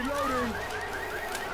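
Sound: car alarm going off in video game Left 4 Dead 2

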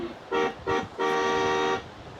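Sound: electric car horn honking

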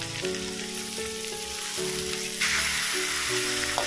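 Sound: giant catfish pieces stir-fried in a pan

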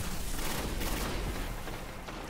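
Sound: gunfire in video game Destiny

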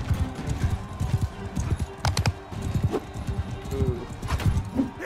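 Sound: horse hooves galloping in Mount & Blade II: Bannerlord video game

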